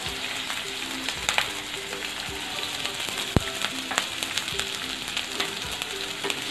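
Onion, garlic and green chili frying in a pan for a village-style amaranth leaf dish, a soft continuous sizzle with scattered crackles and a few stirring knocks, close and fairly quiet.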